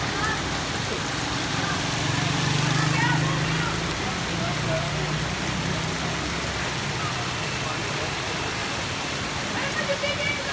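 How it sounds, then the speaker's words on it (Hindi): Heavy rain pours onto a flooded street in an unbroken, loud wash of noise, with someone talking over the downpour. "दोस्तों बारिश होती है जो कि सैलाब आ गया"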